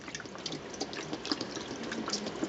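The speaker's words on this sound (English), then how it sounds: "pour on enough chicken broth" A steady, splashy trickle of chicken broth being poured into a pan, continuous and close, with faint bubbling throughout.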